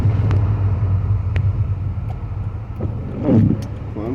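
A car's exhaust rumbles steadily at low pitch while driving through a rainy Seattle town street, the engine note rising briefly near the end with some passing traffic noise.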